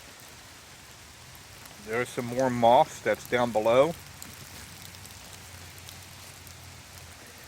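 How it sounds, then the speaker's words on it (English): Steady rain falls on a garden with a moss-covered rock, a soft continuous patter throughout while someone talks briefly in the middle. "This is a great rainstorm here for this moss."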